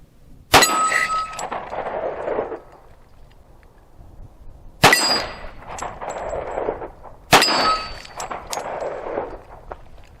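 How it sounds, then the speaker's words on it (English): Three loud gunshots from a 1911 pistol outdoors, each followed by a ringing metallic clang of the round hitting a steel plate, spaced a few seconds apart with lingering echo between. "So let me take a couple shots, see if I can hit this plate."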